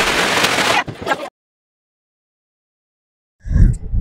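Diwali firecrackers set off at home, under a cardboard sheet: a dense burst of crackling, a long silence, then another close, heavy bang-like burst.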